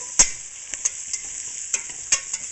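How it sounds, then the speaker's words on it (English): Flour being stirred into melted butter in a pan for a shrimp lime chowder, with a steady high hiss and several sharp spatula scrapes and taps, close with no talk. "We're gonna put flour in. And we're gonna give it a mix."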